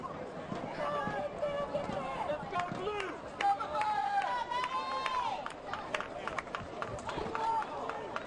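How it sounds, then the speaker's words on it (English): Soccer crowd at a wet, damp state championship match in Murfreesboro's Richard Siegel Soccer Complex, a dense, continuous roar of cheering and shouting from the stands, with scattered whistles and voices rising over it. "Crowd's trying to stir up their team"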